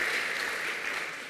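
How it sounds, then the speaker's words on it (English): An audience applauds at a panel discussion, a steady wash of many hands clapping at moderate loudness throughout, with no talk over it. "Big applause."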